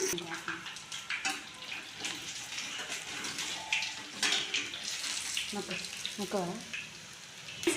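Green chilli fritters (mirchi bajji) frying in hot oil, giving a steady crackling sizzle with some bubbling, close by, with talk and clatter coming and going over it.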